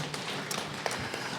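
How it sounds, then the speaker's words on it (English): A conference audience gives a round of applause at a media-integrity event, a dense continuous patter of many hands clapping close by with a few sharper individual claps standing out. "the physical exercise is a big round of applause addressed to"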